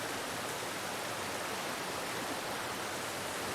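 Waterfall inside The Last of Us Part II video game, a steady broadband rush of falling water that stays constant and close throughout, with no voices over it.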